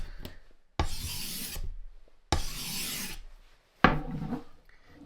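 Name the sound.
fleshing knife sharpened with flat passes on a stone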